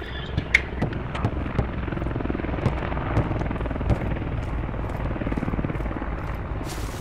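A helicopter in a video game: steady rotor thump and engine drone fill the whole stretch, loud and continuous, with some higher whine and scattered clicks layered over it.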